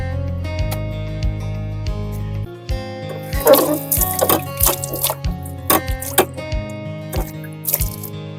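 Water is poured over a filaria patient's leg into a washing tub, giving a run of irregular drips and small splashes against a steady background hum.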